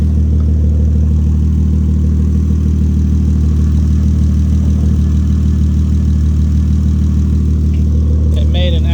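Turbocharged Lexus SC300 engine runs with an open downpipe and no exhaust fitted, a loud, close, steady idle drone with a deep rumbling throb throughout and a brief higher whine near the end.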